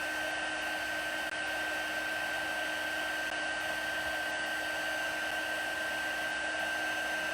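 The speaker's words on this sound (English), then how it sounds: "Our heating tool's pretty warmed up here." Heat embossing tool blowing hot air over a stamped paper card, a steady even whirring hum with a faint high whine, close and constant throughout, no talk.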